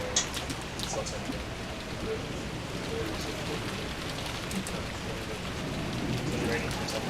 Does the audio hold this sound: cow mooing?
no